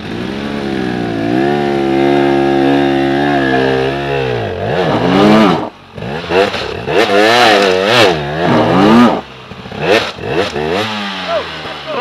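A motorcycle engine revving hard under throttle, loud and close, with rising and falling pitch sweeps, a held high rev, then quick repeated blips and drops.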